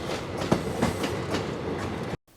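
A passenger train rolls along with rhythmic clickety-clack from the wheels over rail joints, several evenly spaced thumps over a steady rumble before an abrupt cut to quiet.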